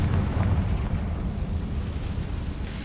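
Confringo spell blast in Hogwarts Legacy gameplay: a sustained low rumbling explosion with dense bass, holding fairly steady across the short span and fading slightly toward the end.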